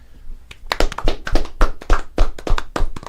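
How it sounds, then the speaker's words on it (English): A few sharp, close hand claps in an irregular burst, loud and near, alone without much background. "This is a standing ovation, round of applause"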